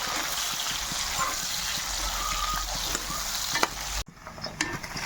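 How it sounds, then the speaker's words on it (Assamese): Sliced onions sizzle steadily in hot oil in a pan for a duck curry, a constant close hiss with a few utensil clicks and stirs, then the frying cuts abruptly to a quieter, sparser crackle near the end. "তো গাইজ দেখিব পাইছে তেলত পিঁয়াজ দি দিয়া হৈছে।"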